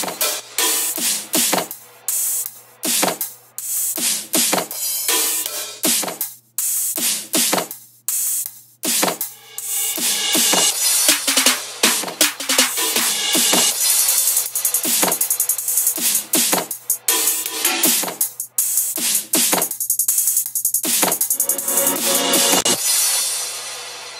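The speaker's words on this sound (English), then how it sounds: "the last section we have here is my background drums and effects soloed out" Soloed background drums and effects from a heavy future bass track: punchy percussive hits in a driving rhythm with bright noisy effect sweeps, loud and dense, with no voices.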